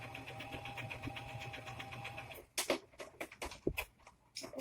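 A sewing machine runs in a steady stitching burst while sewing the short sides of a fabric face mask, then stops and gives way to clicks and handling noises of fabric being adjusted.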